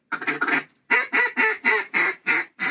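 Ducks quack during a duck hunt in Arkansas: a loud, close run of about nine sharp, evenly spaced quacks in a steady rhythm, heard on their own.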